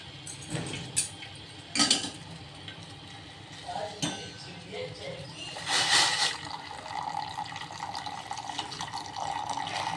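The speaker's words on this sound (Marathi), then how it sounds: "चहामध्ये आता दूध टाकून घेते" Hot milk poured into tea in a pot, a steady liquid pour with clinks of utensils, a few sharp knocks early on, close and continuous, with a voice speaking at times.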